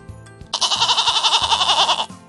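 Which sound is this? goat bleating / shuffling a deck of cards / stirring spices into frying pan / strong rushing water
goat bleating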